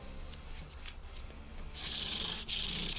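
Sandpaper rubs along the frets of a koa J-200 guitar neck, a soft scratchy hiss that swells louder in the second half of the clip, with steady back-and-forth strokes and no voices.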